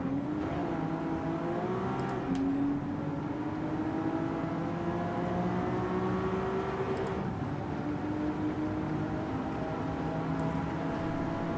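A race car engine roars continuously through an online Gran Turismo 7 video game race, its pitch slowly climbing under load with brief shifts, and no talk over it.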